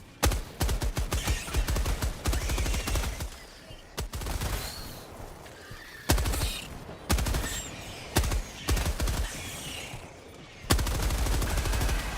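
Video game automatic gunfire rattles in long rapid bursts, loud and close, separated by short pauses and a few sharp single shots.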